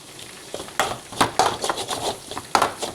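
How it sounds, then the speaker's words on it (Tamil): Chicken 65 thokku being stirred as it fries in a pan, with a handful of distinct scraping and clattering strokes of the spoon over a faint background sizzle. "நல்ல கலர் கிடைக்கிறதுக்கு நல்லா கிண்டி எடுக்கணும்"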